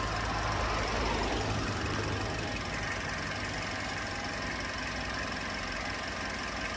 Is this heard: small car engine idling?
yes